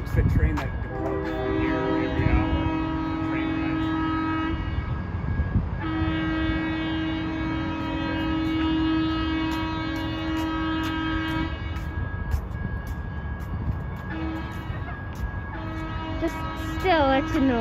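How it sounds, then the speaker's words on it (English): A Portland MAX Orange Line train horn sounds in long sustained blasts at SE Water Ave station, pausing and returning, over rumbling rail noise with people talking nearby. "What's that horn noise?"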